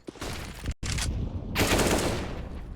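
Rifle fire in a Counter-Strike match on the Vertigo map during a headshot, loud bursts of automatic shots broken by a brief silent gap, then a longer continuous volley.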